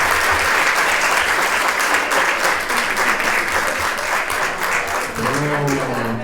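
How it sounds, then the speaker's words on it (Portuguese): Warm applause from an audience greeting a speaker at an academic talk on education and health, steady dense clapping throughout, with a voice starting to speak near the end. "Recebam com uma calorosa salva de palmas"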